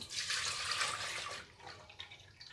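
Milk pours steadily into a cooking pot with a loud, splashing gush for about a second and a half, then tapers into softer trickles and drips.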